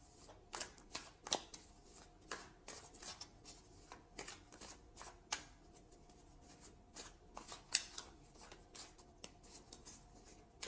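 Tarot cards being shuffled and drawn, a series of soft, close, irregular papery riffles and flicks at low volume, with no talk.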